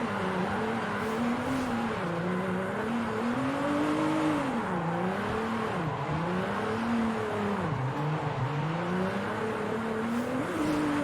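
A rear-wheel-drive car in the Forza Horizon racing game drifts with clutch kicks, its engine droning loudly and continuously while the revs repeatedly dip and climb over about eleven seconds, with no talking.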